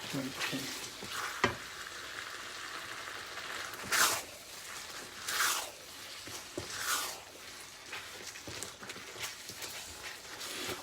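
Chicken pieces stir-frying in a hot pan for a cashew chicken dish, giving a steady soft sizzle with occasional louder bursts of stirring and scraping, with no one speaking.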